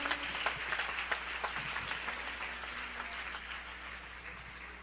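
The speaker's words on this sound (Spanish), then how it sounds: "Kaya fuerte los aplausos a Cristo Jesús." Congregation applause at a church anniversary service, continuous hand clapping with sharp individual claps standing out, moderately loud and gradually easing toward the end, with faint voices underneath.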